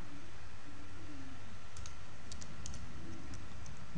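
Light, scattered keystrokes clicking on a computer keyboard as a Linux sudo command is typed, faint and irregular over a steady background hiss.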